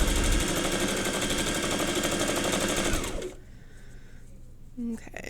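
A sewing machine back stitching quilt strips runs in a loud, steady rapid stitching rhythm for about three seconds, then stops, leaving only quiet handling sounds.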